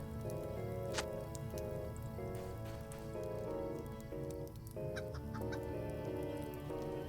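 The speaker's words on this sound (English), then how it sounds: "Chickens!" Chickens in The Lord of the Rings video game cluck in a steady, repeating pattern of short clucks, moderately loud over a constant dense hiss like rain, with no talk.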